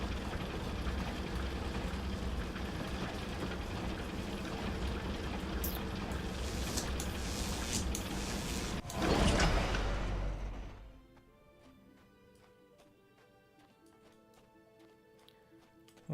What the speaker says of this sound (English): Alright, up we go in a very loud elevator.